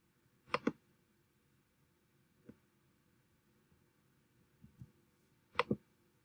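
Sparse computer keyboard keystrokes click faintly in a quiet room, a few paired taps spaced apart.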